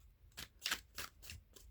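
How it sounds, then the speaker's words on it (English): A deck of tarot cards gets shuffled in several quick riffling bursts about a quarter-second apart, crisp papery flutters close up and fairly quiet, with no talking. "let's pick up the next deck. Do another shuffle."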